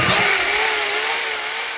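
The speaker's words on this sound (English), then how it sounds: "Oh, wait, my drill stopped working." A power drill runs off a pickup truck's electrical outlet, giving a steady, close, continuous motor whine with a slight wavering pitch and no other sound.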